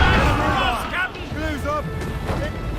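Cannon fire from a sailing warship in Assassin's Creed Rogue, heavy booming crashes under an ongoing game soundscape with speech-like voices present, several blasts spread through a few seconds.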